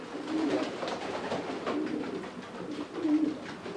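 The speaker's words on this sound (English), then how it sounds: "Big birdie. Yeah, Pigeons, yeah." Pigeons coo in a loft of racing birds at a club, low throaty calls repeating about three times in a steady rhythm over a busy, noisy background of other birds.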